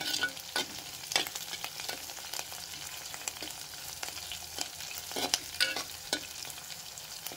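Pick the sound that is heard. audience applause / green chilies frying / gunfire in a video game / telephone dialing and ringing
green chilies frying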